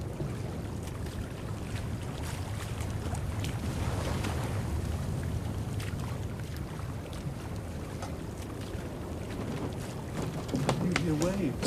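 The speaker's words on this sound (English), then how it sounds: "You hear waves, sire. Waves breaking up on the shore." Waves break on an island shore at night, heard from aboard a sailing ship on open sea: a steady broad wash of surf and wind, continuous and fairly loud throughout.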